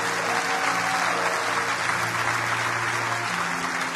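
A church congregation claps and cheers in a steady, dense wash of applause that fills the room evenly throughout, with no break or rise.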